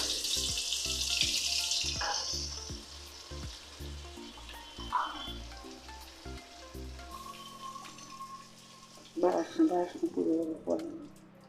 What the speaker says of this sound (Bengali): তেলের মধ্যে আমি একটু বাটার দিয়ে দিলাম।